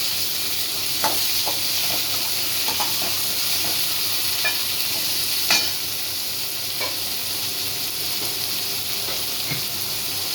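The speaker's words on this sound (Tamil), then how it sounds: "வெங்காயம் உடஞ்சிருச்சு நல்லா வதங்கிருச்சு வதங்கி கொஞ்சம் தக்காளி போடுவோம்" Onions and tomatoes fry in a pan with a steady, close sizzle and hiss, broken by occasional scraping clicks of stirring; there is no talking.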